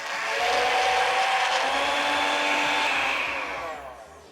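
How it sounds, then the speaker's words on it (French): A blender purées pumpkin soup made with butter, a steady, loud motor whine holding for about three seconds before easing off, with no talking. "On va commencer à mixer et on ajoutera de l'eau au fur et à mesure pour gérer la consistance."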